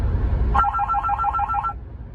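A phone ringtone for an incoming international call trills in a quick, repeating electronic pattern for about a second, close and clear, cutting off abruptly over a low background murmur.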